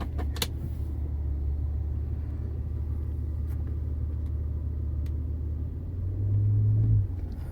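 Bentley Continental GT at an Arizona auction pulling away, a low steady engine rumble close by with a few faint clicks, swelling briefly louder near the end.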